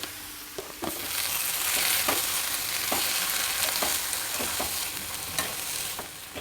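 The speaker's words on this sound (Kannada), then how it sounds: "ಇದನ್ನು ಚೆನ್ನಾಗಿ ಒಗ್ಗರಣೆಯಲ್ಲಿ ಹುರಿಬೇಕು" Constant hiss of ridge gourd and lentils frying in tempering oil in a pan, broken by regular scrapes and taps of a spoon stirring the mixture.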